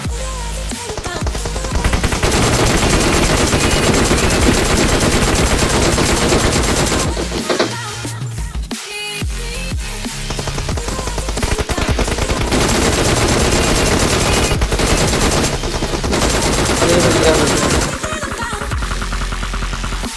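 Sustained automatic gunfire and rapid shots in a squad-based shooter video game, loud and dense for nearly the whole stretch, with a short lull in the middle before the shooting resumes.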